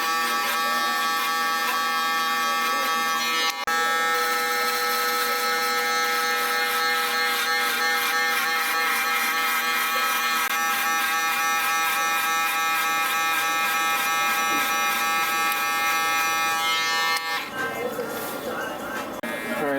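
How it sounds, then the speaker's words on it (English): Steady, loud electric shaver buzz running continuously close up while cleaning up a taper fade haircut, with a slight change in tone near the end. "Now I'll come in with the shaver."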